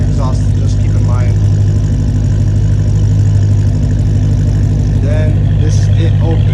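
A Dodge Hellcat Redeye fitted with a catback exhaust idles with its valved mufflers closed, a steady, loud low rumble running throughout, close by, while someone talks over it.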